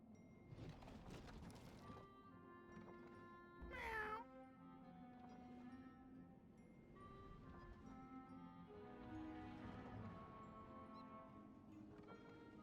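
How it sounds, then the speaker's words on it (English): A fire kitty pet in the Wizard101 video game meows, with a brief, louder cry near the middle standing out over steady game music and ambient sounds. "We're gonna grab the fire kitty."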